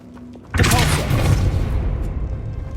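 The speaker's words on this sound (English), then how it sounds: "Depulso." A Depulso force spell lands in Hogwarts Legacy with a sudden heavy boom after a quiet moment, followed by a loud crackling, crumbling rumble that slowly tapers off.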